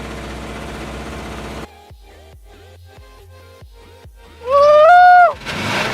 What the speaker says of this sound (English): So we have a massive exhaust leak, as you can probably hear, but it's running.